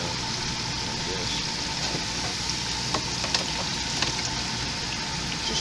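Eggplant and squash pieces deep-fry in a fryer basket, giving off a constant bubbling sizzle at moderate level with a few light clinks as the basket is shaken and stirred.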